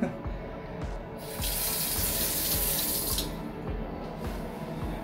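A washbasin tap in the powder room of a luxury neoclassical apartment runs a steady stream of water, which swells louder through the middle and then settles, close and without voices.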